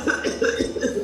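A patient with whooping cough (pertussis) gives a short run of harsh, strained coughs, with throaty, voiced strain between the bursts.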